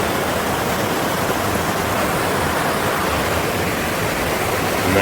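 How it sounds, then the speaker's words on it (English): Snowmelt runoff in a small mountain creek near ice caves rushes in a steady, close, unbroken wash of water with no pauses and no voices. "This is just a creek, I should say, that feeds into."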